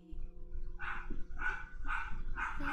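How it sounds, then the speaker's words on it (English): A dog barks four times in an even rhythm, moderately close, over a quiet indoor background with a faint steady hum and no talking. "if you want to hear my dog barking"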